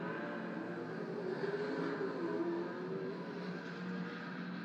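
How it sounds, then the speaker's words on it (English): Ford Mustang and Chevrolet Camaro muscle cars race at Pukekohe circuit, a steady, continuous engine roar heard from a distance that holds an even level throughout without clear passes. "Some lovely Mustangs and Camaros there."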